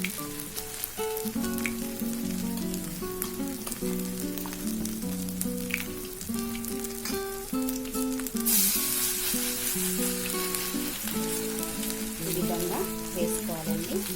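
Instant poha breakfast patties fry in a pan with a continuous soft sizzle and crackle. Background music plays over the frying the whole time, and no one speaks.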